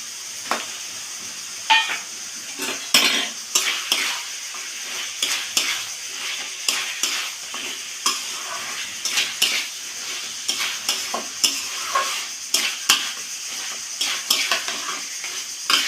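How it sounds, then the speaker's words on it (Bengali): A spatula scrapes and knocks against a pan while mashed pumpkin is stirred together with fried fish bones, sharp irregular clacks over a soft sizzle, close and steady. "নাড়াচাড়া দিয়ে কুমড়োর সাথে বেশ করে কাটা দিয়ে একদম মাখিয়ে নেব"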